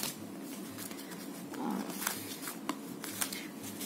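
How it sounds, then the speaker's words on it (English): White washi paper is torn by hand for card and tag making, giving soft, close, fibrous ripping and crinkling sounds in short irregular bursts against a quiet background. "So I'm just going to tear this."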